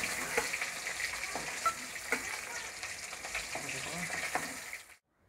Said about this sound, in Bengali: এই পিঠটা আমি লাল লাল করে ভেজে নেব